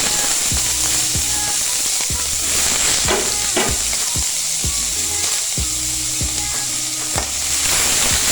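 Chopped onions fry for vegetable kurma with a loud, steady sizzle, punctuated by regular clinks and scrapes of stirring, over quiet background music.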